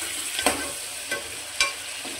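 Ginger, garlic and coriander paste fries with onions in a pan for egg biryani, giving a steady sizzle broken by three distinct scraping stirs.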